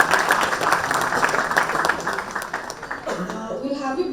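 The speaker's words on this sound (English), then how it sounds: "Please join me in giving a warm round of applause again for Mr. Prashant." Dense applause from an audience fills the clip, a steady wash of many hands clapping, with voices mixed in underneath.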